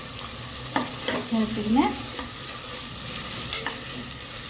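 Tomatoes, green peas and curry leaves fry in hot oil in a pan for samba wheat rava khichadi, giving a steady close sizzle broken by several scraping stir strokes of the spoon.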